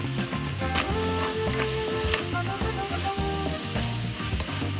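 Squid cubes sizzle in olive oil with shallots, garlic and thyme in a pot, a continuous bright frying hiss heard beneath background music.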